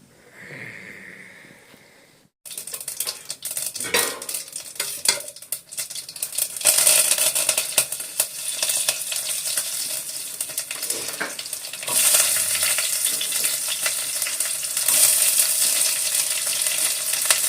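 Sambar frying in a pan gives off a steady sizzle as it is stirred, with soft scrapes and clinks of a spoon against the pan. The sizzle grows louder partway through and holds close and continuous.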